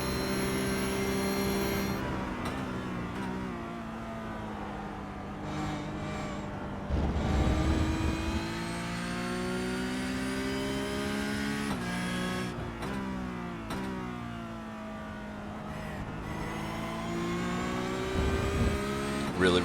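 Porsche Cup race car lapping Road America in a racing simulator game, engine revving hard up and down through gear changes, loud and continuous with brief drops between shifts.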